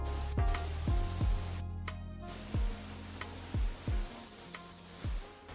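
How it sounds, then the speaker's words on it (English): Compressed air from a shop air hose blasts in short repeated hissing bursts, about eight of them, knocking old foam debris off a vehicle headliner board, with no talking. "But since we're at the shop, we're going to use an air hose today."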